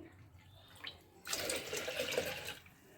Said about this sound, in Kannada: ಒಂದು ಗ್ಲಾಸ್ ಬೇಳೆಗೆ ಎರಡು ಗ್ಲಾಸ್ ನೀರು ಹಾಕ್ಬೇಕು